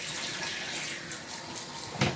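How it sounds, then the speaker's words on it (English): Caustic soda solution poured carefully from a container straight onto a sink drain, a soft continuous trickling stream with a brief louder splash near the end, no talk. "pour the caustic down the sink directly onto the drain very carefully"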